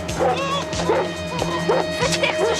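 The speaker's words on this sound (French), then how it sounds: "Faites taire ce chien!" A dog barks and yips in quick repeated bursts, about five close, sharp calls in a steady rhythm with a faint whimpering quality, with no talking.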